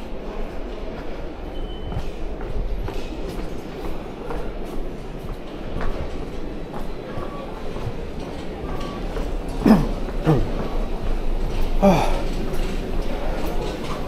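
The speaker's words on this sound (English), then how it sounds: "we're taking a train. It's called the GO train" A GO train in Toronto rumbles along from inside a carriage, with a continuous low rolling drone, occasional clicks and faint squeals, and voices heard faintly over it.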